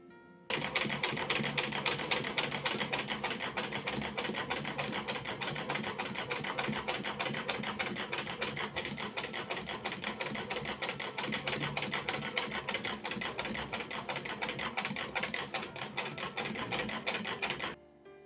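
A sewing machine running steadily to stitch lines along the sides of curtain fabric, a close, continuous rapid whirring hum that starts and stops cleanly, with no voices.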